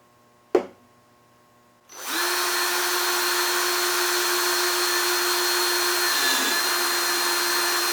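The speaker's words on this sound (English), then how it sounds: "I'm ready to drill my pilot holes for the jigsaw" A power drill bores pilot holes for a jigsaw in a clamped workpiece, a sharp click followed by a steady, loud whine that runs continuously close by.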